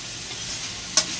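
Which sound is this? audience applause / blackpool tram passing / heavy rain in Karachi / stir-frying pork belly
stir-frying pork belly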